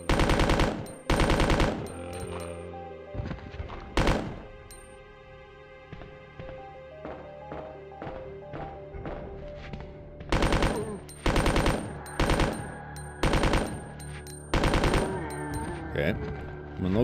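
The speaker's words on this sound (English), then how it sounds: "I've got my submachine gun loaded" Submachine gun fire in the 1998 Resident Evil 2 game comes in loud, repeated rapid bursts of automatic shots, separated by short gaps and quieter stretches of game sound.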